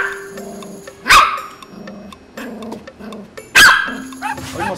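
A trained dog gives a series of short, sharp barks close by, spaced as counted answers to arithmetic questions, with quieter whines and yips between them.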